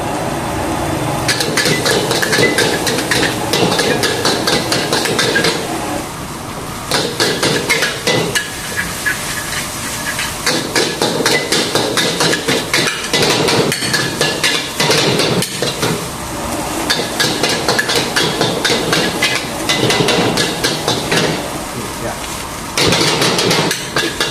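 Rapid, loud metallic scraping and clattering of a spatula against a wok stir-frying rice with shrimp, in busy bursts with short pauses, over a constant roaring burner.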